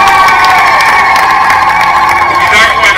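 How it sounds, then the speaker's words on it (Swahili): A crowd cheering and shouting for a member of parliament at an Uhuru Torch foundation-stone event in Chiwale, Mtwara: a loud, sustained chorus of voices and whoops that carries straight through without a break. "mpigieni makofi"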